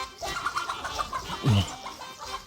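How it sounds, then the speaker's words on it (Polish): Chickens and roosters moving about an outdoor yard with hanging laundry, giving scattered clucks and bird calls at moderate distance, with one louder low call near the middle of the short stretch. "Kurczaki latają, koguty chodzą."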